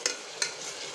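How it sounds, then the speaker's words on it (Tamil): Tomatoes sizzle steadily as they sauté in a hot pan, with two sharp scrapes of a spoon stirring, close up. "இப்போ தக்காளி நல்லா வதங்கட்டும்."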